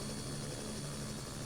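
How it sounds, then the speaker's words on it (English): A helicopter's rotor engine starting up in a VR helicopter simulator game, heard as a steady, dense whine and hum with low rumbling, held at an even level throughout with no talk. "Start the rotor engine."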